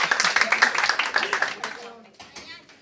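An audience claps for a sister-in-law at a family gathering, a brisk burst of hand clapping that is loud at first and then thins out and fades over a few seconds, with a voice heard faintly beneath.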